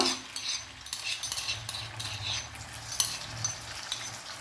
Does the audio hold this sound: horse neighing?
no